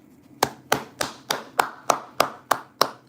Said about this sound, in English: let me clap for you one time